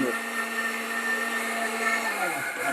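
A NIYAMA electric blender grinding raw cumin seeds, a loud steady high-speed motor whine that holds for nearly three seconds and then begins to wind down, close up with no voices.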